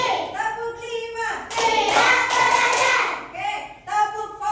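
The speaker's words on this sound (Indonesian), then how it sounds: "Tepuk lima." A group of children claps hands together in a classroom clapping game, a dense burst of applause-like claps lasting about two seconds, framed by an adult's voice speaking before and after.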